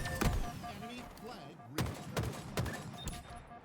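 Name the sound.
gunfire in the video game Halo Infinite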